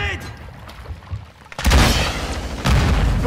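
Grenade explosions in a multiplayer shooter video game, two loud booming blasts with rumbling tails in the second half, following quieter game ambience and brief indistinct voice sounds.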